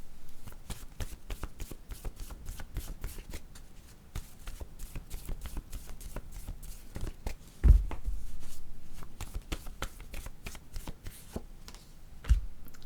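Word cards being shuffled, with a dense run of quick papery riffles and flicks continuing throughout, close and fairly soft, with a couple of sharper thumps partway through.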